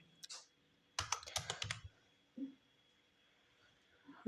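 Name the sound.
typing on a computer keyboard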